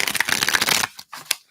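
A deck of reading cards being shuffled, a fast loud riffle of flicking cards that stops abruptly, followed by a few soft taps and shuffles.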